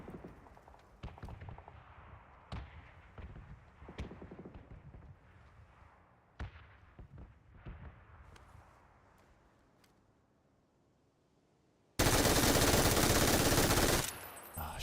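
A light machine gun fires in PUBG: sharp shots and short bursts crack irregularly, some near and some more distant, then a loud, dense stretch of continuous fire lasts about two seconds near the end.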